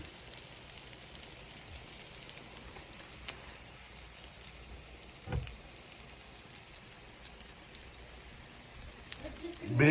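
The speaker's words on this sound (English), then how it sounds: "And now I'm going to show you how to fry them." Shaami kabab patties sizzle steadily in hot oil, a soft crackling hiss with occasional pops, and a louder clatter at the end.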